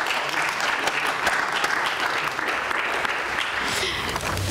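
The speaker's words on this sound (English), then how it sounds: "Please give them a round of applause for being here today." Dense, sustained audience applause fills a hall at a political panel on media and technology, steady and loud from start to finish with no pause in the clapping.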